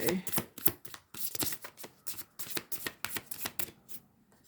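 Tarot cards are shuffled in a quick series of crisp riffles and flicks, repeated rhythmically at close range, with no talking.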